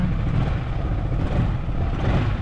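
A Yamaha XMAX 300 scooter with a stock exhaust runs while being ridden. Its engine gives a steady, broad mid-pitched drone mixed with rushing wind, at moderate loudness and with no talking.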